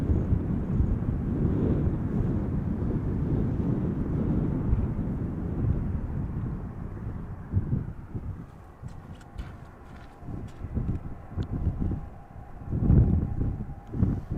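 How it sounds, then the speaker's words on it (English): An Embraer E2 airliner arrives at Amsterdam Schiphol Airport. A broad, wind-buffeted jet roar rumbles steadily at first, then grows more uneven with gusty bursts as it passes at a distance. "And another E2 Embraer"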